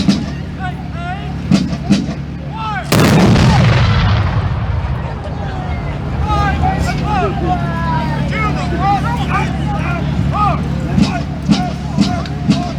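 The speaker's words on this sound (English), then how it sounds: "The division fires by platoon." Musket volley fired by a platoon during a battle reenactment of the Battle of Camden: one loud, sharp blast followed by a long rolling echo and reverberation, with crowd babble and shouted commands through the rest.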